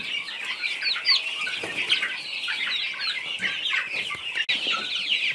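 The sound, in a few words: chicken clucking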